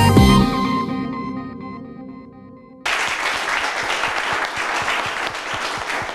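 A musical sting fades out, then an audience at a youth holiday event in Koumassi bursts into loud, sustained clapping that carries steadily through the rest of the clip.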